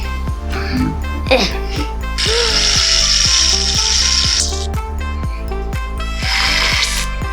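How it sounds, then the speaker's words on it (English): Shaving foam hissing from an aerosol can into homemade fluffy slime, two steady spray bursts of a couple of seconds each over a clicking, ticking backing. "Next, spray in some shaving foam."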